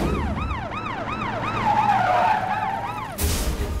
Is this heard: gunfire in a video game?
no